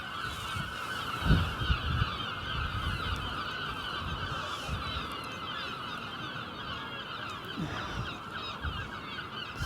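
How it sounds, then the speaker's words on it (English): Seagulls call over and over at St Ives, loud and overlapping, with a steady low rumble of wind or surf beneath them. "Can you hear those seagulls?"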